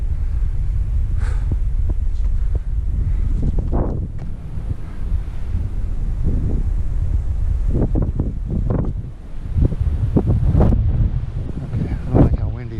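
Strong, steady wind on a mountain top roars and buffets the microphone throughout, with low rumbling gusts that swell and fade.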